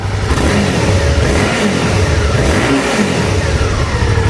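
A Suzuki V-Strom 650 2018 motorcycle on its stock factory exhaust revs up and down in a couple of throaty bursts, steady and loud throughout, with no voices.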